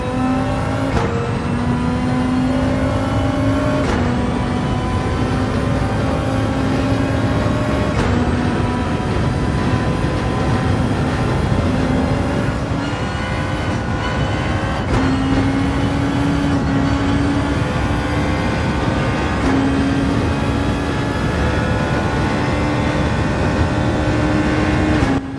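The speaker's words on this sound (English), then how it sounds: "It's the Audi RF, the DTM car. It's changed sound." Audi DTM race car engine in Gran Turismo 7, a loud sustained high-pitched race engine note that rises steadily through repeated gear changes, with brief shift gaps every few seconds and no talking.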